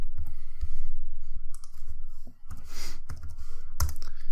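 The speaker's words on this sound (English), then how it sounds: "So now press U on your keyboard" Scattered clicks and taps from a computer keyboard, irregular presses with a few louder key strikes and short pauses between them, close and fairly quiet.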